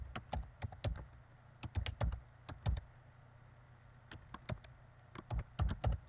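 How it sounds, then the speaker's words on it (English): Typing on a computer keyboard while entering geometry input, in quick bursts of close, crisp key clicks separated by a pause of about a second, with no talking. "We're going to type the following things."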